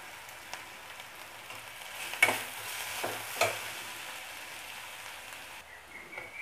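Onion and curry leaves stir-fry in a pan for bitter gourd poriyal, a steady soft sizzle broken by a few louder scraping stirs of the spatula near the middle, close and fairly quiet, with no talking.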